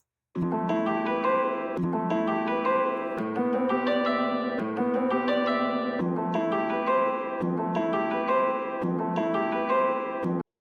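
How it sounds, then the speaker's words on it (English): A simple dry guitar pattern made in Labs, plucked and clean with no effects, repeats a short phrase several times with evenly spaced notes that ring out and sound almost piano-like. "I made a simple guitar pattern in Labs and consolidated it."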